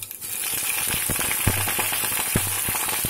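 Mustard seeds, cumin and spices sizzle steadily in hot oil for tomato rasam, a loud continuous frying hiss broken by small pops and crackles, with no talk.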